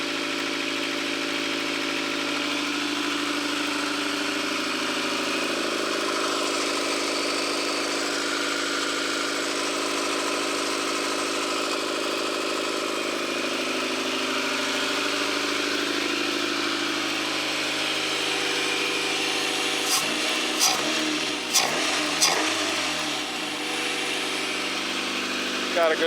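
A Honda Civic EG hatchback engine idles steadily for a long stretch, a smooth, even low hum near at hand, broken late by a few sharp metallic clicks and rattles.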